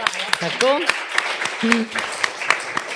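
Audience applause at a talk event, a steady patter of hand claps under a speaking voice, with several sharper claps standing out.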